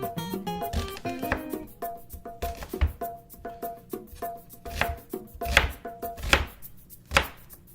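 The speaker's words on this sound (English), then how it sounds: "we're just going to give it a couple of chops across" A kitchen knife coarsely chops food on a cutting board in a quick, uneven run of crisp, close knocks, with no talking.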